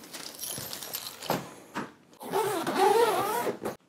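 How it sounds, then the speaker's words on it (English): The zipper on a Godox CB-06 wheeled camera carrying case is pulled closed, giving a close raspy zipping run that starts with short scrapes and then becomes a longer, louder continuous pull before stopping abruptly. "zips right up and boom"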